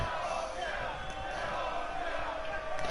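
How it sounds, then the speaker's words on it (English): A virtual arena crowd in the WWE 2K22 wrestling game chants and roars in a dense, sustained wall of sound through a short stretch, with commentary talk layered on top. "The crowd chanting, "Kill Owens, kill!""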